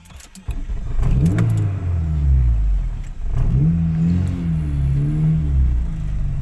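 A Volkswagen Vento's engine cranks and catches, then revs up loudly twice with a steady idle rumble between, close by and with no talking.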